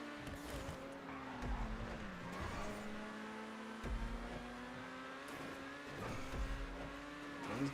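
Race cars drive in GTA V, engines droning and shifting pitch with a steady revving hum. Faint tire noise and passing cars mix in, and no one speaks.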